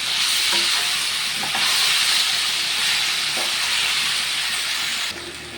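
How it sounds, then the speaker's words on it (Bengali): Coriander powder being stirred into a frying masala for hilsa curry makes a loud, continuous steamy sizzle with a few spoon scrapes, easing slightly at the end. "বেশ সুন্দর করে নাড়াচাড়া করবো যতক্ষণ না কাঁচা গন্ধটা যায়"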